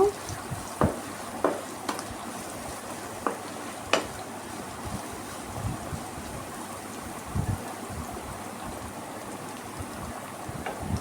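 Garlic cloves and a tempering of spices frying in oil in a pan, a soft steady sizzle with occasional stirring scrapes and clinks, fairly quiet with no talk.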